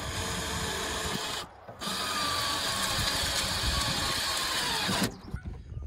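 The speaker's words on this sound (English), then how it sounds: "I'm going to drill the four holes in the template on top of the boat." A loud drill grinds steadily through a boat deck, drilling holes through a template, pausing briefly once, then cutting again before stopping abruptly with a clatter.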